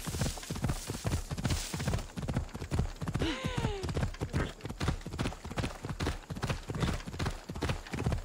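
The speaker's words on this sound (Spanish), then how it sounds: "Me encanta el viajar a caballo por toda Grecia" A horse ridden through ancient Greece in the video game Assassin's Creed Odyssey pounds out steady, rhythmic galloping hoofbeats that sound loud and close, and a short whinny rises midway.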